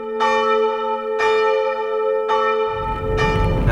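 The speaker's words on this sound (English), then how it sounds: "it's time to bring the bells down" Eight church bells being rung down, slow, heavy strikes, three clear peals with long ringing decay, then a rougher clanging burst as the bells settle down.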